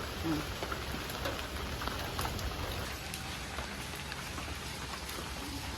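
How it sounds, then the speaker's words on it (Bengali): Steady rain falls continuously, a dense hiss of drops hitting surfaces with no voices, holding an even loudness throughout. "সন্ধ্যা থেকে বৃষ্টি শুরু হয়েছে"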